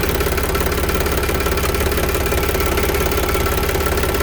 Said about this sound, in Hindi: अब जैसा कि आप देख रहे हैं हमारी ट्रैक्टर स्टार्ट हो गई है